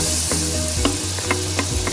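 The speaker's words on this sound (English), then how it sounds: "we're just gonna get the butter melted nicely" Butter melts in a pan over medium gas with a steady close sizzle, punctuated by a few soft stirring taps. No one talks.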